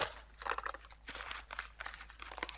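Wrapping paper crinkles and crunches in quick, irregular bursts as a present is torn open close by, faint overall with short pauses between handfuls.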